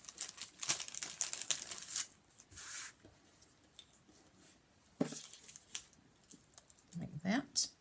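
Scissors snipping through paper craft pieces for an autumn memory book, close crisp cuts and crinkling paper in irregular bursts, with a voice speaking softly between the cuts.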